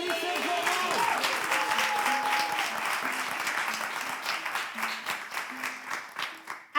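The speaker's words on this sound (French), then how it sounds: "Applaudissez-vous." An audience applauds at a live show, a dense, fairly loud clapping that slowly thins toward the end. Background music plays underneath, and a faint voice is heard among the clapping.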